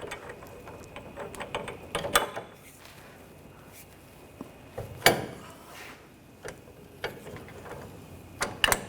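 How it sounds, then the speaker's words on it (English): A wheel bearing press tool being loosened on the front hub of a 2013-2022 Buick Encore, close irregular metallic clicks, ratcheting and clanks with quieter handling noise between them. "You can loosen up the tool."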